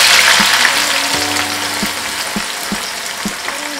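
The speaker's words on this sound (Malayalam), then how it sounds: "എണ്ണ ചൂടായി കഴിഞ്ഞാൽ നമ്മൾ അരിഞ്ഞ് വെച്ച് ഉപ്പിട്ട് വെച്ച ഈ സവാള ഇതിലോട്ട് ആഡ് ചെയ്യുക." Sliced, salted onions hit hot oil and fry with a loud, dense sizzle, while a few soft knocks of a utensil against the pan punctuate the steady crackle.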